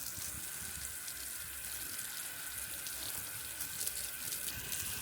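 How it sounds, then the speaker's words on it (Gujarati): Evening watering of dry garden plants, including strawberries, gives a continuous, even rush of running water that holds without pause from start to finish. "તો પાણી પાઈ દઈએ બધામાં"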